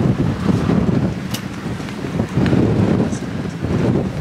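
Strong wind buffets the microphone aboard a boat at sea on a popping GT fishing trip off Sudan, a steady loud roar with gusty surges throughout and faint water movement beneath.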